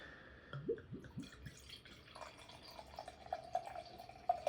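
Seagrams Escapes strawberry daiquiri drink poured into a glass, soft gurgling glugs and drips of liquid, fairly quiet and close, with no talk.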